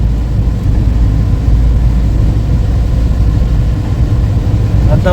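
A car drives along a highway through green countryside in rainy weather, its engine and road noise forming a loud, steady low rumble heard from inside the vehicle for the whole stretch.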